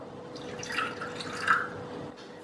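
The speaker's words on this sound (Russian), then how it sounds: "вливаю воду" Water pours into a saucepan holding powdered sugar and agar-agar, a soft short trickle with a few faint drips, close and quiet.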